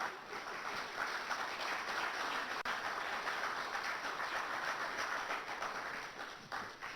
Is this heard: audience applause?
yes